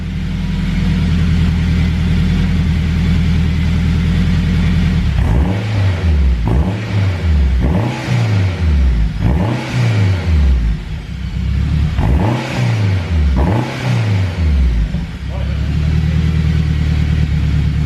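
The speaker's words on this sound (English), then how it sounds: "You gonna hear the exhaust again?" A Honda Civic EK hatchback with a K20 engine rumbles at idle, then its exhaust revs sharply several times in quick bursts before settling back to a steady low idle.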